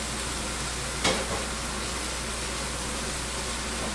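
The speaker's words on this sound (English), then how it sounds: "Now I'm going to sear this really nicely on both sides." Steady, loud sizzling hiss of steak searing on a hot griddle, with a brief sharper crackle about a second in.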